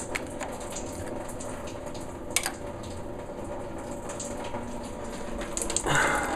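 Coolant draining out of a Honda Accord cooling system during a heater core hose job, a steady trickling gush of liquid with a brief clunk and a louder splashing surge near the end.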